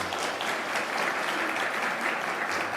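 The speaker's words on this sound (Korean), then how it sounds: "한 번 더 박수로 한번 격려할까요?" A church congregation applauds its choir after a hymn, a dense, steady wash of clapping that holds evenly loud from start to finish with no voices over it.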